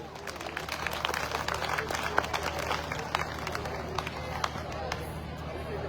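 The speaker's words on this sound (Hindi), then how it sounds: "एक बार जोरदार तालियां।" Audience applause at a Hindu sammelan gathering in Kharkhoda, a steady wash of clapping and crowd noise held at an even level throughout.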